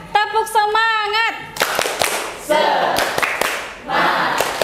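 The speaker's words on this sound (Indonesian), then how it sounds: "yuk kita tepuk semangat" A classroom of children does a rhythmic spirit clap, a quick patterned burst of hand claps mixed with group shouting, after a teacher's sung call.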